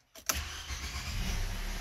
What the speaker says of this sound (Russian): Заводим